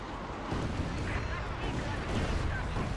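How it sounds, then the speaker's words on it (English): Panzer artillery shells rain down in Company of Heroes 2 as a dense, continuous rumble of booms and blasts, with a commentator talking over the barrage. "Another Panzer barrage from VonIvan."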